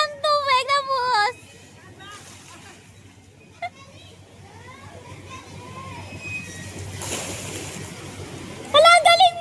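Water pours and splashes at a Manila water park, a soft rushing wash under excited children's voices that shout at the start and end.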